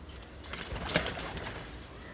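A group of eight pigeons, males and females kept for sale, cooing softly in the background, faint and low under a steady rustling ambience.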